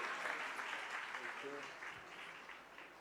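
A church congregation at a Sunday prayer service claps to welcome a pastor, a continuous wash of applause with a voice briefly audible partway through.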